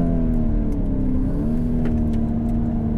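A 2019 Lamborghini Urus is driven hard on a race track in Corsa mode. Its engine holds a loud, sustained drone the whole time, with a strong steady tone and a slight shift in pitch partway through.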